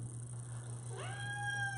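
A single close cat meow rises and holds near the middle, a clear drawn-out call over a steady low electrical hum in a quiet indoor room.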